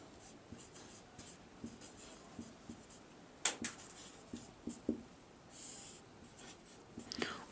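Short scratchy strokes of writing on a board put down chemistry terms during a class 10 lesson on balancing chemical equations, close and fairly soft, in uneven bursts with brief pauses and light breaths.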